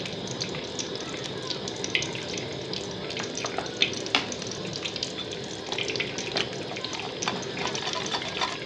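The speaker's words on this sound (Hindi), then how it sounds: "उसमें थोड़ा सा पानी डालूंगी एंड पानी मुझे इतना डालना है कि कॉर्नफ्लावर जो है हमारा थोड़ा गाढ़ा हो" Water is poured from a thin stream into cornflour in a kitchen bowl, a steady trickling splash running throughout with small clinks, moderately close and not masked by speech.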